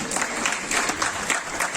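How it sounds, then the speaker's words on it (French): A comedy show audience applauds in a packed hall, brisk continuous clapping with a few louder bursts across the short stretch, close and lively. "Applaudissons pour nous-mêmes mes copines."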